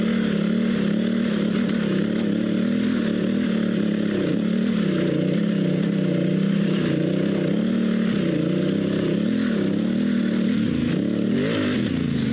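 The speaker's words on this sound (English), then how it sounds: "the bike was super stable and just tracked straight up the hill" Dual sport motorcycle on Kenda K784 60/40 tires climbing a hill at high RPM, a steady, loud engine drone with slight rises and dips in pitch throughout.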